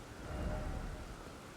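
Steady rain falling at night in the video game Elden Ring, a dense continuous wash of droplets with low rumbling underneath, fairly loud and even throughout with no voices.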